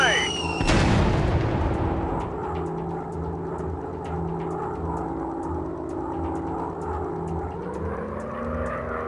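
A bomb blast in an aircraft video game, one sharp loud boom that rolls off into a long fading rumble under steady engine drone.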